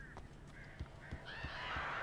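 Strange birds calling in the Alan Wake video game: several short harsh cries, crow-like and honking, scattered over about two seconds against a steady low rumble and a rising high hiss.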